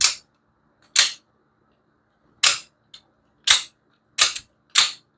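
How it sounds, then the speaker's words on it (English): An OTF automatic knife fires its blade out and retracts again and again, each a sharp, loud, close snapping click, about six of them spaced irregularly over a few seconds with silence in between. "it is a really hard firing OTF for sure"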